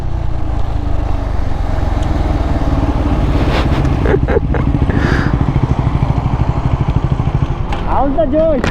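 Bajaj Pulsar NS400z and Pulsar N250 motorcycles in a drag race, engines roaring loud and close with rising revs and a sharp climbing whine near the end, voices faintly mixed in.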